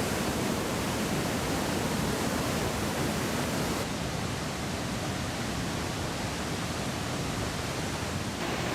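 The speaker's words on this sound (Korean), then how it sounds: "마침내 이구아수 폭포를 한눈에 볼 수 있는 전망대에 다다른다." Iguazu Falls in Argentina, seen from a viewing platform, sends up a dense, continuous roar of falling water that stays broad and unbroken throughout.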